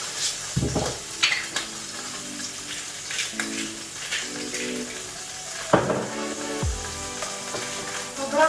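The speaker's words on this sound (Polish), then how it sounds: "Nasza rybka się już smaży." Salmon sizzles and spits in a hot frying pan, with occasional pops, scrapes of a utensil and clinks of cookware.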